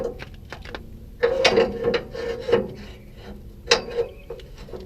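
Metal clicks, rattles and scraping rubs come from tightening a tow dolly ramp and sliding a locking pin through, several short close knocks with quiet gaps, no talk.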